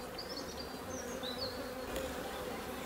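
Honey bees buzz around an opened beehive, a dense close hum with individual bees whining past in rising and falling tones, steady throughout with no voices.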